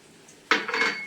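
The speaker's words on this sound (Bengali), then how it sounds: "একটু ঢাকা দেবো, একটু সেদ্ধ হয়ে যাবে।" A metal lid clanks down onto a pot of simmering capsicum paneer gravy, one sharp close clatter followed by a brief rattle as it settles, with no voices.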